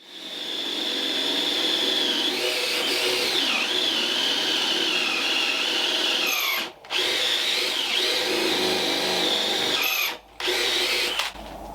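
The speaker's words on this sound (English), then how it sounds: "We run the auger through next." Big auger drilling through wood for a sawmill foundation, a loud steady high-pitched whine with grinding, briefly stopping twice near the end before spinning up again.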